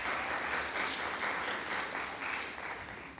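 Steady applause for a speaker at an inter-secondary school debate final, an even wash of many hands clapping at moderate distance, fading slightly toward the end.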